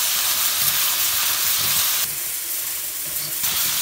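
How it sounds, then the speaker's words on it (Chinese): Chicken stir-fries in a wok after sugar goes in, in a rural kitchen, making a loud continuous sizzle and hiss. Brief stirring scrapes rise now and then, and no one talks. "放糖之后多炒一会儿"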